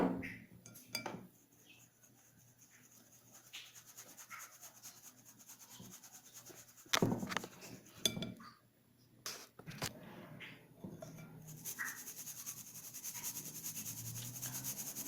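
Powdered sugar being sifted into a bowl of orange cake batter in a home kitchen, heard as soft, steady rubbing and scraping with a few light metallic clinks and taps, close up, with no talking.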